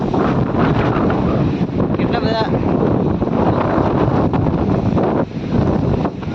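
Loud, strong storm wind buffets the microphone in a continuous roaring rumble in a village, with a person speaking briefly underneath.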